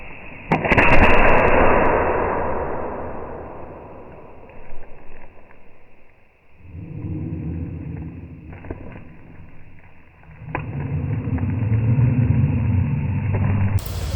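A homemade firecracker packed with turmeric powder bursts on a terrace with a sharp loud crack, followed by a long rumbling, rustling tail and later low-pitched thuds and noise.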